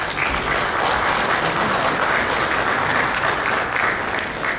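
Audience at an Inje University regional exchange event in Korea applauds award winners coming forward, a loud, dense and steady patter of many hands clapping that holds evenly throughout without speech.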